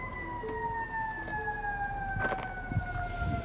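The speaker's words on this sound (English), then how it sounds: "there are sirens and people running around behind me" Wailing sirens sweep steadily through the street, rising and falling over a continuous background of traffic rumble and distant activity.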